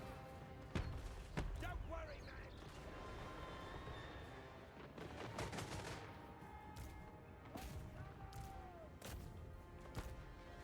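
Artillery guns in Total War Warhammer III fire in a battle scene, heard as scattered booms and crackling volleys over a continuous battlefield din, with someone talking throughout.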